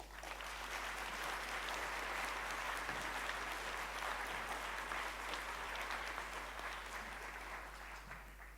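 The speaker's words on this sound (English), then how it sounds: "you were applauding Neil Freistadt" Sustained audience applause in a conference hall, a dense, steady wash of many hands clapping at moderate loudness that fades slightly toward the end, with no speech over it.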